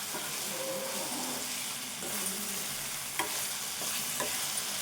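Okra frying in a pan and being stirred, with a steady close sizzle and a few scraping stirs and clinks over it.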